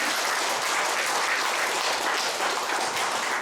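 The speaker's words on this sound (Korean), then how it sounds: "우리 민법사님께 박수 한번 크게 한번 부니다" An audience at a Sunday Won Buddhist service in a temple hall applauds loudly and continuously, a dense, even wash of clapping with no voices over it.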